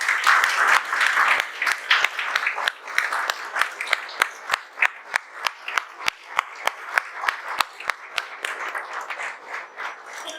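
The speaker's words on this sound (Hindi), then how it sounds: "दीपांशु ठाकुर को मैं तालियों के साथ यहाँ पे बुलाना चाहूंगा।" A crowd at an award ceremony applauds steadily as a topper is called to the stage, then the clapping thins into sparser, distinct claps that gradually fade.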